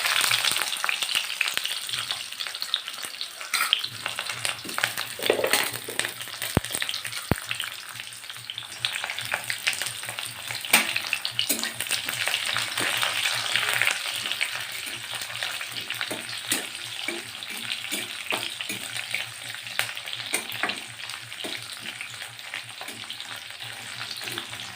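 Five-spice seeds, onion and green chilli frying in hot oil, a continuous crackling sizzle with occasional stirring scrapes, close and steady throughout, no talking.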